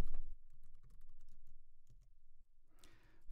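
Keys clatter on a computer keyboard as a Linux install command is typed on an Apple M1 machine, a quick run of close, crisp clicks followed by a brief rush of sound at the end.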